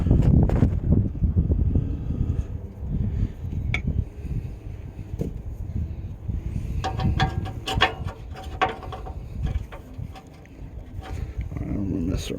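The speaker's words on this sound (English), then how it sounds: "The fucking wind is just not cooperating today." Gusty outdoor wind buffets the microphone with low rumbling bursts that rise and fall, along with scattered clicks and knocks and brief voices.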